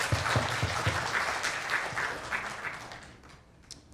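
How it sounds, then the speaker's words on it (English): Audience applause at a Filipino American History Month celebration, steady clapping from a crowd that gradually thins and fades out over a few seconds. "I just want to say a huge round of applause to all of them for what they do for the Filipino community."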